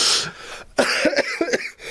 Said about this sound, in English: Bringing my cough back.